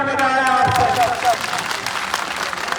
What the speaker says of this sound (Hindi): ताली बजाया आप सब